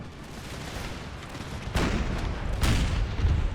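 Howitzer cannons fire during a battle in Empire: Total War, with deep booming blasts rising out of a rumbling backdrop of distant gunfire. Two louder reports come close together near the end.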